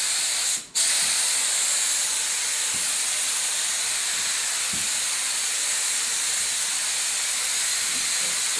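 Marbocote Spraycote FD release agent sprayed onto a mold, a steady, loud hiss that runs unbroken from start to finish after a short break near the beginning.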